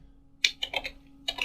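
A computer keyboard clicks under quick fingers: a short run of several crisp keystrokes, a brief pause, then two more taps, close and distinct in an otherwise quiet room.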